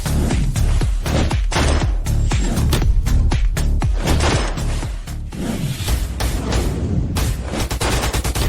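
Rapid bursts of gunfire from a 50,000-volt high-voltage gun crackle in dense, loud volleys with sharp impacts, continuing for several seconds with only brief gaps.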